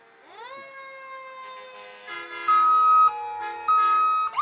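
A fire truck siren at a Christmas parade in Lincolnton winds up to a steady wail, joined by louder horn-like blasts, close by and prominent.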